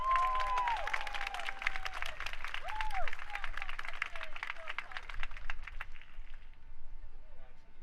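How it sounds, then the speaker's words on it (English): A high school band's spring concert audience claps in a steady patter, with whistles and a few whoops rising above it before it thins out toward the end. "Applause, guys. Big round of applause."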